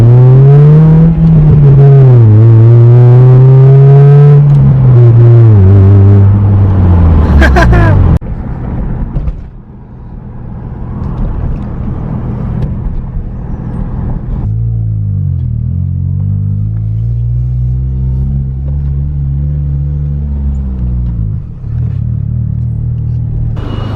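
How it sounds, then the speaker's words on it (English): A 2005 Acura RSX with a loud exhaust roars through a first-gear pull, its rising engine note loud and close for several seconds before easing off, then building again with later revving. "I'm about to do a first gear pull right here."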